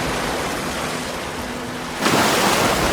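Ocean surf on the Galápagos coast where marine iguanas dive from cliffs, a steady broadband wash that swells louder near the end as a wave breaks close by.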